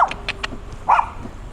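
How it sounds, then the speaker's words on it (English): A small dog yaps in a few short, sharp bursts at a distance, heard on a street in an older quarter of Changshu, China, with light traffic rumble and ambient noise behind it. "Little dog yapping away."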